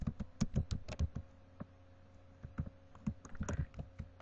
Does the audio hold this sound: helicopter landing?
no